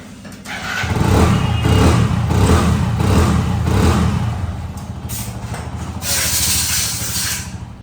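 A car engine runs in a Delhi workshop after its oil leak has been fixed. It revs up loudly, rumbles for several seconds, then drops back to a smoother idle before a second rise.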